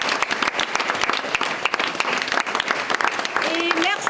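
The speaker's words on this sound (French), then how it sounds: "on a entendu vos rires, vos sourires et vos applaudissements" Theatre audience applauding at the end of a live comedy show, dense steady clapping with some voices mixed in, fairly loud and continuous throughout.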